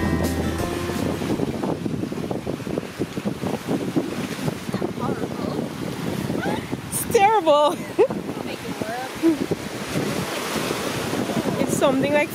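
Ocean waves wash over a stony beach at Fort Jeudy, Grenada, in a continuous rushing surf with heavy wind buffeting the microphone, and a voice is briefly heard over it.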